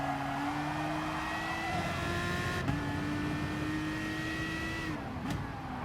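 An Aston Martin race car in GT Sport roars at steady high revs through a chicane, its engine note stepping through gear changes and then climbing again, loud and close with no one speaking.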